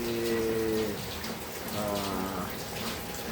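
Rain falls during a fishing outing, a soft steady patter and splash on surfaces, with a voice briefly murmuring underneath.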